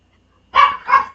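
A dog gives two quick, loud barks close by, back to back, with silence before them.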